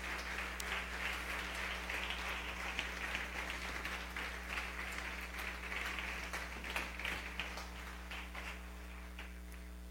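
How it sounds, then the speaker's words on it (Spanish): A conference audience applauds in a hall at a religious gathering, a moderately distant, steady patter of many hands clapping for about ten seconds over a low constant hum. "Un aplauso al Señor Jesús."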